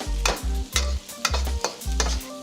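Carrots and other vegetables for chicken chow mein are stir-fried over high heat. Five rhythmic scraping strokes of a spatula toss them, with a steady sizzle close by and no talk.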